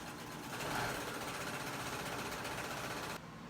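A sewing machine stitches a 5/8 inch seam on a pair of shorts, a steady, continuous mechanical whir at close range that runs evenly before dropping slightly in level near the end, with no talking.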